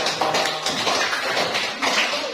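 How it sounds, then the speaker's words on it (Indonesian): A classroom audience gives steady, dense applause, with many hands clapping close by throughout the burst. "kita berikan aplaus yang meriah untuk"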